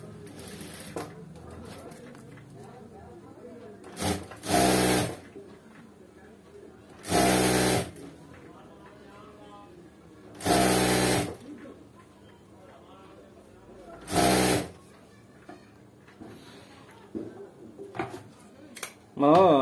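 Sewing machine stitching a blouse in short loud bursts of rapid whirring, about five separate runs spaced a few seconds apart, with someone talking quietly between them.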